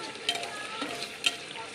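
Garlic paste and a little sugar fry with onions, whole garam masala, cumin and bay leaf in a home kitchen pan, giving a quiet, steady sizzle with a couple of brief stirring scrapes.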